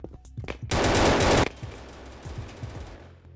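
Gunfire in Battlefield 2042 team deathmatch, a few scattered shots then a loud sustained burst of automatic fire lasting under a second, followed by quieter distant game noise.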